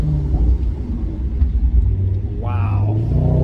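A 2014 Maserati GranCabrio MC's V8 engine rumbles steadily from inside the car, with a short rising rev swelling up near the end, all beneath a person talking.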